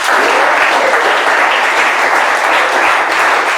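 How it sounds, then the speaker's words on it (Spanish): A church congregation gives loud, sustained, dense applause with no pauses, filling the room evenly from start to finish. "Quiero que le des un fuerte aplauso al Señor."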